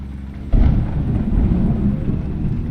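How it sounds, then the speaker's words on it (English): A sudden loud thunderclap breaks into a deep, sustained rumble with rain hiss during a thunderstorm in the American Truck Simulator game, while driving through Missouri. "We have thunder and lightning."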